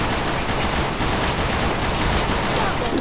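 Rapid gunfire in the battle-royale video game Free Fire, a dense continuous fusillade of automatic shots filling the whole stretch at steady loudness with no talk over it.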